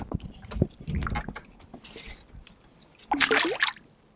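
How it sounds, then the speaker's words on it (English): A small smallmouth bass caught on a drop shot is slipped back into a Northern Ontario lake, giving a few soft watery splashes and trickles followed by a brief, sharper splash near the end. "Put him back into the water."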